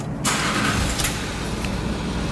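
A Land Rover Discovery 3 TDV6 diesel engine starts up with a sharp cranking burst, then settles into a loud, steady idle rumble close by, with no one talking.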